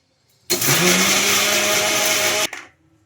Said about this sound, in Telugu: ఇలా గ్రైండ్ చేసుకోవాలి